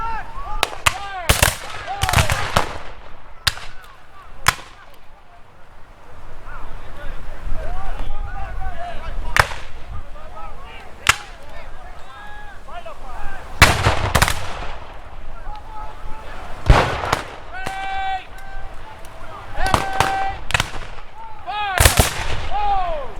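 Black-powder rifles fire by rank at a Civil War battle reenactment, sharp loud cracks and booming volleys scattered irregularly across an outdoor field, with shouted commands and voices between the shots and wind in the background.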